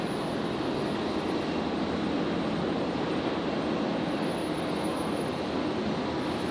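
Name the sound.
airplane departing from runway 32 at Brisbane Airport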